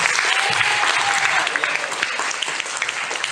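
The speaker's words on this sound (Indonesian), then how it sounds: "Kita beri tepuk tangan yang meriah untuk mereka." Sustained applause from a large crowd at a student election debate, dense and steady clapping throughout with a faint voice briefly heard underneath.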